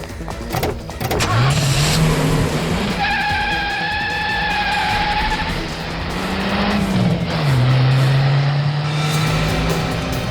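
A car pulls away in a Hindi TV crime serial scene, its engine revving and rising in pitch with a brief tire skid, loud and close under a steady wash of background noise.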